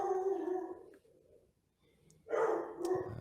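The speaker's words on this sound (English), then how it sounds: "I hear some dogs barking." Dogs barking in a few loud, close, tonal bursts separated by a short quiet gap, with no talk over them.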